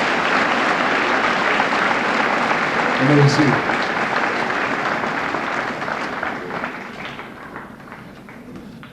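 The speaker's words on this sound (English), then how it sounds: "Let's give these students a round of applause on a great job." Sustained audience applause at a high school senior assembly for scholarship students, a dense crowd of clapping that slowly fades toward the end, with a brief spoken voice partway through.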